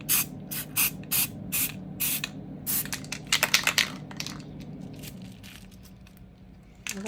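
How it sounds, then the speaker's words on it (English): A spray paint can with its tip on sprays ink layers for gel plate printing, giving several short hissing bursts in a row, then a longer run of spraying that trails off into quiet. Close and crisp, with no talk. "This one has the tip on it, so it's like spraying everywhere."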